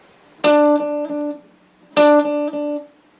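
Two short guitar phrases ring out in turn, each a loud accented note followed by two quieter notes in a triplet rhythm.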